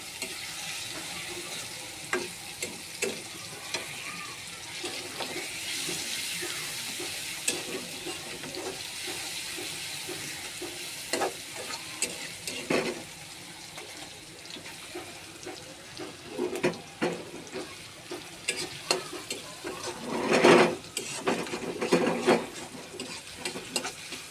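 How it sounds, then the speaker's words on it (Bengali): Mutton and onions stirred in hot oil in a pan for a Bengali mutton curry with chana dal, giving a steady close sizzle broken by scraping spoon strokes, with a louder clatter near the end and no talking. "তেলের সাথে ভালোভাবে মিক্স করে নেব তাহলে তাড়াতাড়ি আরও মজে যাবে"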